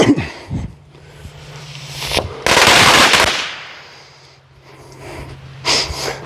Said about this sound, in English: This is the Fat Boy Bomb. This is by Toro.